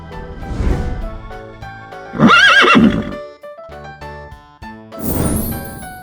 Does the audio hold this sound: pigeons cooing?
no